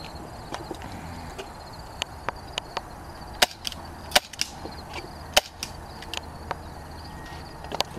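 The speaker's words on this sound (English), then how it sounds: "So I'm going to be shooting at this red outline target that we painted on this board right here" A KWC Smith and Wesson M&P 40 air pistol fires about fifteen rounds at a painted board target. Sharp, separate cracks and snaps ring out at uneven intervals, some louder than others, against a steady outdoor background.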